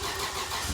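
A Toyota Chaser fitted with a J-pipe exhaust starts up, its engine catching into a steady, loud mid-pitched running rumble close by, with no voices.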